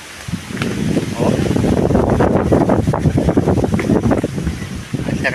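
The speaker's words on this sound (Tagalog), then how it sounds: "Bumilis na ang hangin na naman." Strong wind blows outdoors at Campanalig, buffeting the microphone with a loud, continuous, gusty roar that swells and dips slightly across the whole stretch.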